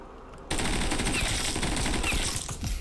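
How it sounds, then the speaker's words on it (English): Rapid automatic gunfire from a gun in a first-person shooter video game, a loud continuous burst of shots running almost the whole clip after a brief quiet start. "This gun is insane."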